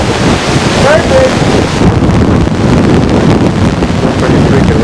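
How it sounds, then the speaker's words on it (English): Strong wind rushes and buffets the microphone in a steady, loud roar, with a faint wash of water underneath. "Pretty freaking windy."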